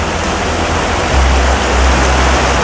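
A creek runs steadily through Many Pines campground, a broad, continuous rush of flowing water that stays loud and even throughout, with no voices over it.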